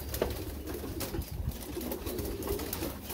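Portuguese pigeons newly arrived from Spain, heard as soft cooing and faint rustling of birds amid a steady background murmur, moderately close.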